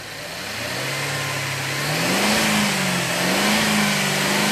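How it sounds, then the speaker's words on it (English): A car engine is revved during MAF sensor testing, rising from idle into a steady higher-pitched drone, then wavering up and down with throttle, close and loud without speech. "Rev it up again."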